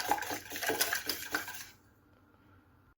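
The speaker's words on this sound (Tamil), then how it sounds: "முட்டைக்கு தேவையான அளவுக்கு சால்ட்டு சேர்த்துட்டு நல்லா பீட் பண்ணிக்கோங்க." Eggs being beaten with salt and pepper-cumin powder in a bowl: quick, rhythmic clinking and tapping of a utensil against the bowl, close, stopping abruptly partway through and followed by near silence and a final knock.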